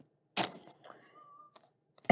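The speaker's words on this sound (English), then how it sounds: "Some interesting sounds coming out of Kitty" A playful cat makes odd little sounds indoors: a sharp burst, a thin wavering whine, a couple of soft taps and another burst at the end, with no talking.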